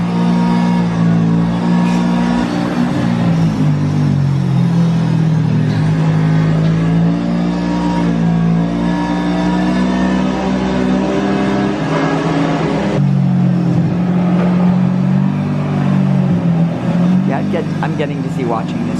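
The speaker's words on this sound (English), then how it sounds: "It's the women's off-road race." Off-road race vehicles in a desert women's race, a continuous loud engine drone that swells and revs throughout, with people talking over it.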